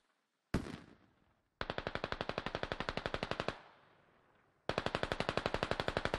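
A BTR-80's vehicle-mounted machine gun in the Squad video game fires one sharp shot, then two long rapid bursts of evenly spaced loud reports, each trailing off into an echoing decay between them.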